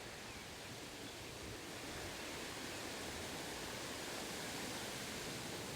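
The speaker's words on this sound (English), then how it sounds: "I'm gonna stop up here and show you guys the river." A river flows with a steady, broad rush of water that holds even and loud throughout, with no other sounds over it.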